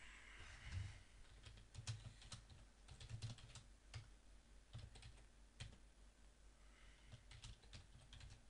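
Someone types data entry on a computer keyboard, with irregular runs of close key clicks and a few heavier strokes, quiet and steady throughout with no talking.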